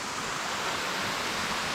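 Thermal spring water flows steadily at its source near a bathing pool, a soft, continuous rushing hiss close by with no voices.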